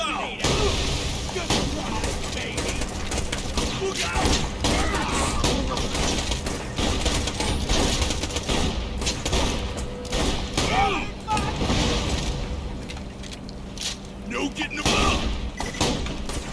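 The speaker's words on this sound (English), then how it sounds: "why do I keep hearing someone shooting?" Rapid bursts of gunfire from the video game Borderlands 2 rattle almost without pause, with booming impacts and thuds mixed into a dense, loud battle din.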